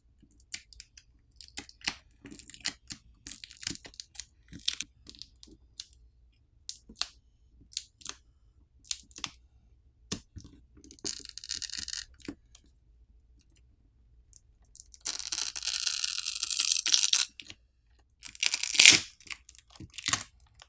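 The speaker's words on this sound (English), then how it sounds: "there are pull tabs provided to help us pry the battery off" Pulling adhesive pull tabs to pry off a Xiaomi 12 Lite smartphone battery gives close, crisp scratching, tearing and crinkling noises, scattered ticks leading into two longer sustained stretching rips near the end.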